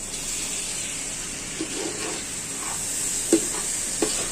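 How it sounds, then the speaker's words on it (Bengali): Raw rice grains frying and being stirred in a pot while khichuri is cooked, a steady hiss broken by a few scraping stirs, close and unaccompanied by speech. "সম্পূর্ণ চালটাকে ভেজে নিই।"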